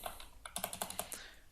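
Computer keyboard typing while code is entered in a programming tutorial, a quick run of close, crisp key clicks in an uneven rhythm with no talking.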